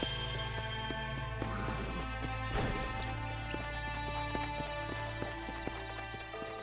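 Horse hooves clip-clopping in the video game Red Dead Redemption, a steady trotting rhythm over continuous game music and ambience, moderately quiet.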